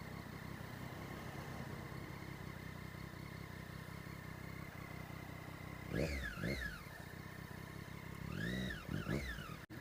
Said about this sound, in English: It sounds awesome with that freaking aero exhaust